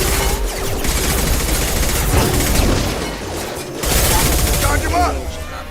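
Dense, continuous gunfire against Fenris mechs in Mass Effect 2, with overlapping shots, booms and mechanical noise forming a loud wall of combat sound that swells again near the end, voices mixed in underneath.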